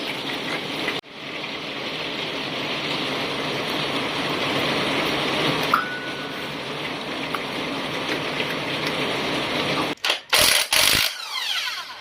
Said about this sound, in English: We are going to remove the old spark plugs.